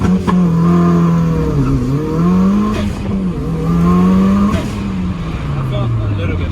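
A car launching hard on a test drive with a suspected launch fault, its engine note rising and falling through strong harmonic sweeps as it accelerates, loud and close throughout, with a person talking over it.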